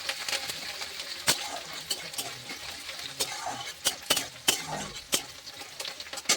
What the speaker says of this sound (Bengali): কারি পাত্তা, ভিজিয়ে রাখা ছোলার ডাল, এটা একটু ভেজে নেব।